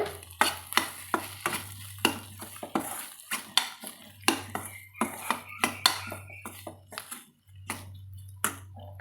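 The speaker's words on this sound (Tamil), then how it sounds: "அதில் தேங்காய் துருவல் சேர்த்து கலந்து விட்டுட்டு" A spatula scrapes and stirs grated coconut into ghee-fried brinjal in a pan, a run of close, sharp metallic strokes with short pauses, over a low steady hum.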